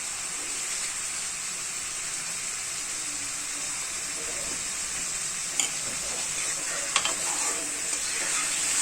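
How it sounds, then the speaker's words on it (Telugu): Chicken curry frying in a pan with coriander powder added makes a continuous, even sizzle up close, with occasional sharp utensil taps and scrapes toward the end. "ధనియాల పొడి వేసి కొంచెం బాగా ఫ్రై అవ్వాలి ఇది"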